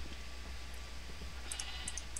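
Sheep in the Minecraft Feed The Beast modpack give a few short bleats close together late in the clip, over a steady low hum, with no speech.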